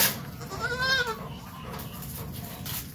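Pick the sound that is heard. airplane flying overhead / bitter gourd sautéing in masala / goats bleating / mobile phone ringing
goats bleating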